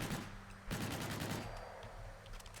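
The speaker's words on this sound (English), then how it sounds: "here's what this thing sounds like without a suppressor" Rapid bursts of loud unsuppressed fire from a modded NV4 rifle in Fallout 4, sharp repeated cracks with a short pause, dense and close, in a game's sound mix.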